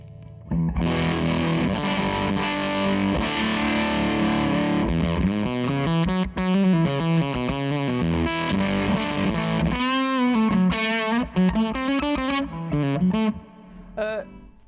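A Zander Circuitry Cafetiere V3 distortion pedal on its MOSFET diode setting drives an electric guitar through chugging chords and sustained melodic bends, thick and saturated, with a brief pause near the end.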